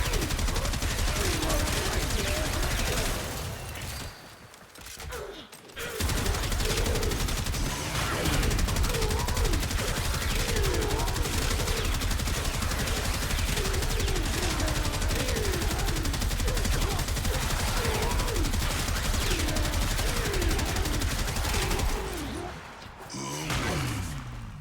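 Gunfire and explosions from the video game Warframe roar in a dense, loud, continuous barrage of rapid shots and blasts, broken by two brief lulls, with a voice speaking faintly underneath.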